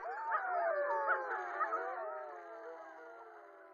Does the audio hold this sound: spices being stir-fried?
no